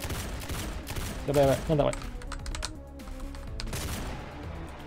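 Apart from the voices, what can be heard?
gunfire in a Backrooms video game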